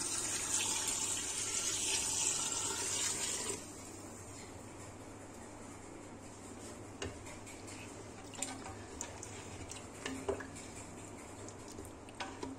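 Water poured into a pot of yogurt-cooked meat for lahori bong, a faint hiss of pouring at first, then quieter kitchen sounds with light clicks and drips.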